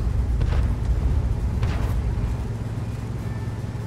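A high explosive shell glances off tank armour in World of Tanks, a loud booming impact with rumbling low-end blasts and a couple of sharp cracks, heavy game noise throughout with no talking.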